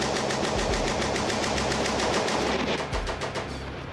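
A First World War machine gun fires a sustained rapid burst on a shooting range, loud and close, with rhythmic rounds hammering steadily for several seconds and no talk.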